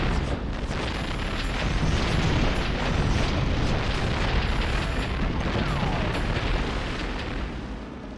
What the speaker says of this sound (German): Ich möchte einen Torpedo einschlagen sehen.